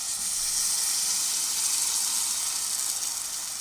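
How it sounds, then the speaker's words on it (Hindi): A paste of onion, ginger, garlic and tomato sizzles steadily in half a cup of hot oil for chicken kofta, a loud, even, continuous frying hiss with no voices. "ऑयल डाला है मैंने हाफ कप और उसमें मैंने पेस्ट डाल दी है"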